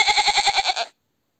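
A goat bleats once in a single long, quavering call with a rapid pulsing wobble, close and fairly loud, then silence.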